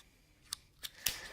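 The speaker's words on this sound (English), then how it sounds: "I bought this multi-tool because it has very close to full-size scissors." Schrade ST11 multi-tool scissors cutting, three crisp, close snips spaced about a third of a second apart over a quiet background, with no talking.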